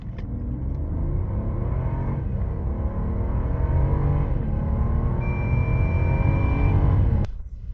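A 2025 Mercedes-Maybach S680 V12 accelerates hard to 100 km/h, heard from inside as a smooth, steady low rumble with a gradually rising engine note and road noise, ending abruptly.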